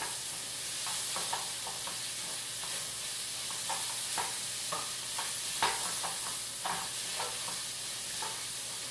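Cauliflower with za'atar sautéing in a pan, a soft continuous sizzle with occasional quiet scrapes and stirs of a spoon, fairly faint and steady, no talking.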